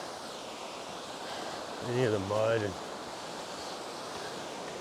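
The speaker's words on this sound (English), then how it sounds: "we made it to the falls here, and they are as breathtaking as they were yesterday." Rushing water of a waterfall on the Boulder River in February, a steady broadband roar filling the background while a person speaks briefly over it.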